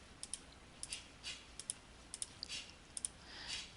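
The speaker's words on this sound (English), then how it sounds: "So I'm typing in all those original fractions that we had." Button presses on a TI-83 calculator while entering fractions, a string of light, quick plastic clicks in irregular clusters, soft and close with no voices.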